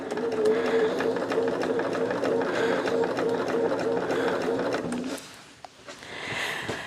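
A domestic sewing machine stitches a roll-up pillow at a steady hum for about five seconds, then stops, leaving a few faint handling clicks and rustles.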